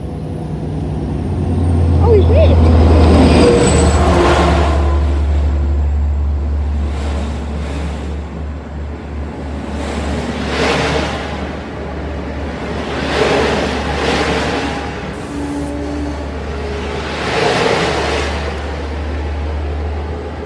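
A freight train rumbles heavily into Northport station, a steady low roar with rising and falling whooshes as cars pass close by, with a brief hiss of brakes.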